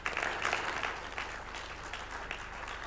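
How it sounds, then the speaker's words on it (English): Fairly quiet applause from an audience at an evening arable-farming talk on biocontrol, thanking the presenters; a short, even patter of many hands clapping, slightly distant. "can we give one final round of applause to all of our presenters tonight"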